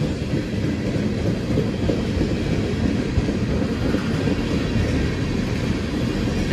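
Loud, continuous rumble of a train passing through Depew Amtrak station in winter, a dense roar with steady rail clatter and no pauses.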